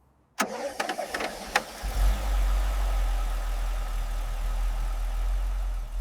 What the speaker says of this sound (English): The engine is alive again.